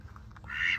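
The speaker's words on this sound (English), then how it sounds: "little ducky hens." A duck hen gives a short, nasal quack close by, brief and moderately loud over faint background rumble.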